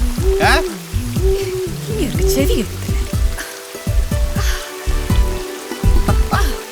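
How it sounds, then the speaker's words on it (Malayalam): Steady heavy rain patters and splashes throughout while voices talk over it close by. "എന്നാ മഴയാ. ഈ മഴ മാറുന്ന ഒരു ലക്ഷണവും ഇല്ല."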